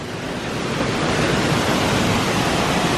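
Waterfall and creek at Ferne Clyffe State Park in winter, a dense steady roar of falling and rushing water, close and loud throughout with no talking.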